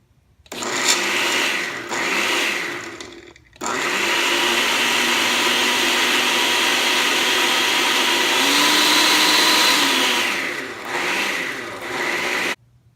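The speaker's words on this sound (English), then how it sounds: "puree this we're gonna puree it" A blender purees food for a lamb chop dish with a loud, close motor whir, first in short pulses, then one long continuous run, then a few more pulses before it stops.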